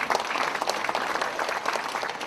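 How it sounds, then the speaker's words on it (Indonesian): Audience applause at a Dhamma talk, a brief, dense round of clapping from a seated crowd, steady and fairly close. "Tepuk tangan dulu buat Ibu Lilian Halim."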